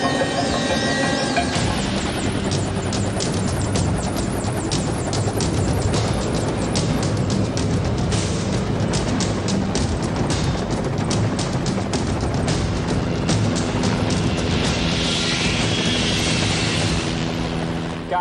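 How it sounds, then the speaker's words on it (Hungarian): A helicopter spools up and lifts off. Its loud, dense rotor and engine roar stays steady and close throughout and drowns out almost everything else. "A helikopter most felszáll, majd leszáll a keretre, amelyet hozzárögzítünk."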